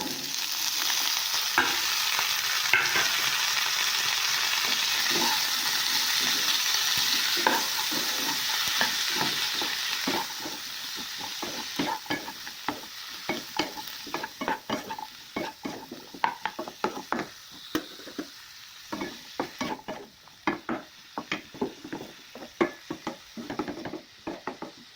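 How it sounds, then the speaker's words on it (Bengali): Onion stalks frying with onion and green chili tempering in a pan, a steady broadband sizzle with frequent scraping stir strokes that grow sparser and more clattery toward the end, close and fairly loud, no talking. "পেঁয়াজ আর কাঁচা লঙ্কা ফোড়ন দিয়ে ভাজাটা দিয়ে দেবো"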